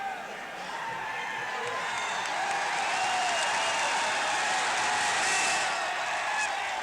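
Supporters cheer and applaud at the 1966 All Ireland Senior Football Final, Galway v Meath, a dense, continuous roar from a large crowd that swells slightly and holds for several seconds.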